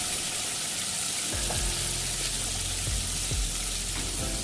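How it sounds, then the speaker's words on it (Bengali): Pieces of rohu fish, rubbed with salt and turmeric, fry crisp in hot mustard oil, giving a steady, close sizzling hiss that runs the whole time with no talk. "আগে থেকে নুন হলুদ মাখিয়ে রাখা মাছগুলোকে গরম তেলে সরষের তেলে ভেজে নেব"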